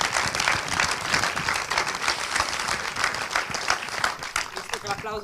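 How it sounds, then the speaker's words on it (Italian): Long, lively applause from a cinema audience, with distinct individual claps in a thick, rhythmic mass and voices rising underneath near the end. "Visto che l'applauso era lungo"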